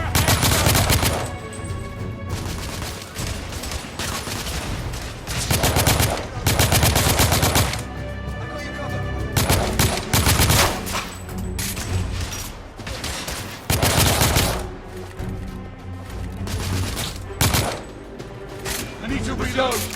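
Heavy automatic gunfire in the video game The Order rattles in loud, repeated bursts with short pauses between, while shouted voices break in over the shooting.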